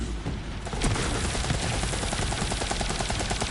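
Rapid assault rifle fire in the Borderlands Fl4k shooter game, a dense, continuous burst of loud automatic shots with no pauses.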